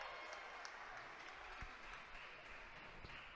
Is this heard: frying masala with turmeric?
no